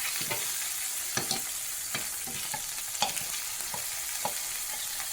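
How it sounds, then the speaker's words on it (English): Slider burger patties quick-fry in a hot pan with a continuous hiss of sizzling grease, broken by several sharp scrapes and taps of a spatula turning them. "You want to kind of quick fry them because it gives them more flavor."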